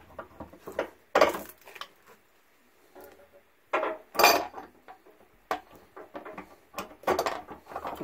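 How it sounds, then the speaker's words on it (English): A wrench tightens the nipple fitting of a 42-inch anode rod, producing sharp metallic clanks and scrapes in uneven bursts, fairly close, with quiet gaps between. "Let's tighten it up with a wrench."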